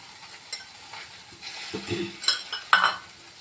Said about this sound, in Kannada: ಇದನ್ನು ಹಂಚೊಳಗೆ ಹಾಕೋತೀನಿ ನಾನು ನೋಡ್ರಿ ಹಂಚೊಳಗೆ ಹಾಕ್ಕೊಂಡೆ ಮೇಲೆ ಒಂದು ಸ್ವಲ್ಪ ಎಣ್ಣೆ ಹಾಕ್ಕೊಂಡ್ಬಿಡ್ಬೇಕು